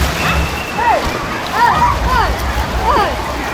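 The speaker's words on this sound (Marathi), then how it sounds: "लाटा जरा जोरात आहेत." Water sloshes and splashes steadily nearby in a water park wave pool, with faint voices and chirpy calls blending into the background.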